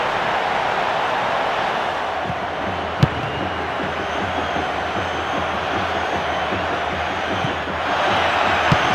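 Steady roar of a large stadium crowd in the football game PES 2012, reacting after a disallowed goal; dense continuous murmur with a sharp click near three seconds and a slight swell toward the end.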